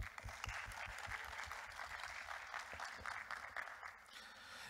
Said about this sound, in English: hopefully you with a round of applause for our amazing CTF riders